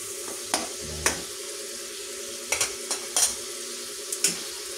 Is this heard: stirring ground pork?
yes